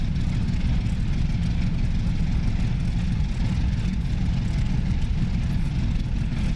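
The simulated F4U Corsair's radial engine in DCS, the same engine used in the P-47, runs alone as a steady, heavy, low drone with no change in pitch or level.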